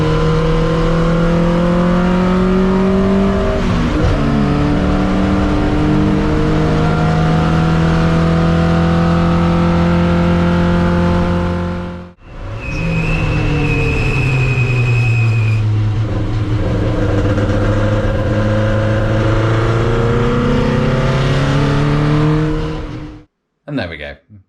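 Racing cars circle in a wet race at Cadwell Park, loud engines droning and rising in pitch through the gears, with a brief drop between passes and another car audible near the end.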